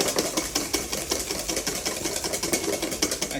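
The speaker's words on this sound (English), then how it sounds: "a little bit more sugar, and we whisk this up." Meringue being whisked with sugar and corn flour, a fast steady rhythmic whirring and clicking of beaters in the bowl, close and continuous throughout with no talking.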